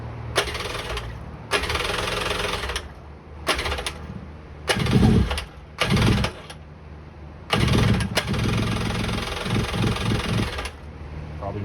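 A Suzuki LJ20 engine cranks in a series of short, separated bursts, turning over repeatedly without catching, loud and close, with brief pauses between each attempt.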